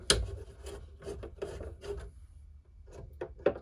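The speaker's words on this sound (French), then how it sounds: "Il faut dévisser les 3 vis de la platine." Three screws being unscrewed from the mounting plate of a 1992 Thorn Trafic 2 SR streetlamp, heard up close as steady grinding and rasping turns with small metallic ticks, broken by short pauses.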